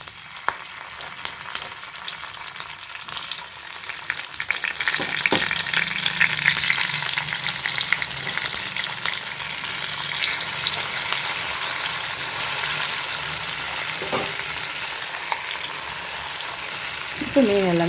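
Fish pieces frying with curry leaves in an oil-filled pan for fish curry: a loud, continuous crackling sizzle with occasional stirring and spatula taps throughout.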